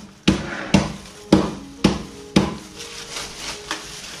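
Walnuts being bashed for a chicken stuffing, five sharp hard knocks at a steady pace, then a few softer taps and the rattle of pieces, close and fairly loud with no talking.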